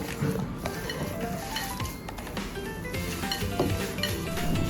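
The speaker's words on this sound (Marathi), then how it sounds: "हे सर्व मिक्स करून घ्यायचं" Soya kebab mixture is worked together with gram flour in a bowl, giving steady squishy stirring and scraping with occasional clinks of a utensil against the dish, close and continuous.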